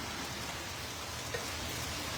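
Steady rain falls in New York, a dense, even hiss of drops on hard surfaces that continues without a break.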